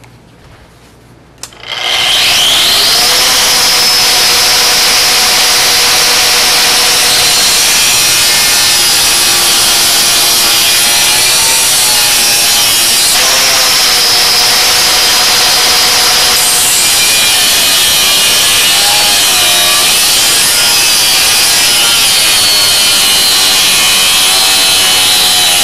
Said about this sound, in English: I finally get to cut this wrench up.